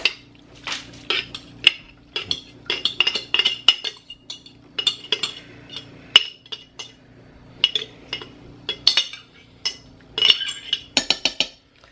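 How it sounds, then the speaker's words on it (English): Sauerkraut goes into a crock pot with a utensil, giving repeated sharp metallic clinks and scrapes against the pot in an irregular rhythm, close and clear, with no talk. "I'm gonna go ahead and add my sauerkraut into my crock pot"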